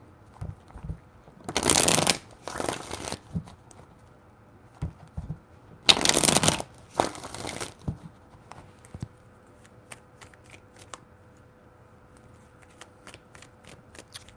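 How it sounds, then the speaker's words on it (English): A tarot deck is shuffled in two pairs of quick riffling bursts. The shuffles are close and crisp against a quiet room, with faint taps and clicks afterward. "Three shuffles."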